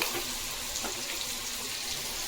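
Pieces of raw mutton kebab frying in hot oil give a steady, even, hissing sizzle at moderate volume, with no talking.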